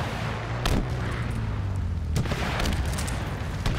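Heavy weapon fire in Halo Infinite: a steady loud rumble of shooting with two sharp booming blasts standing out, close and dense, with no talking over it.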